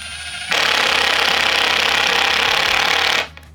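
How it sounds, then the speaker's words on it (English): A Makita impact driver drives a 2.5 inch screw in one loud, steady burst of about three seconds, a dense rattling hammer that starts abruptly and cuts off cleanly, with nothing else heard around it. "we are going to be driving some smaller screws and just seeing how much control you can have over these"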